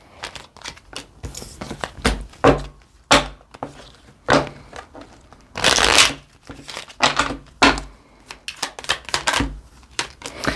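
Tarot cards being shuffled by hand in a series of crisp, riffling bursts and soft slaps, close and fairly loud, with short pauses between shuffles and no talking.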